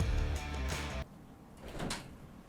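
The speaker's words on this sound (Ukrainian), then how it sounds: "У мене двері відкрилися самі." Indoors, a door swings open on its own with a brief, dull knock and a slide that fade quickly into a quiet room.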